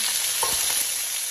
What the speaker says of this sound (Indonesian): Tumis sampai wangi.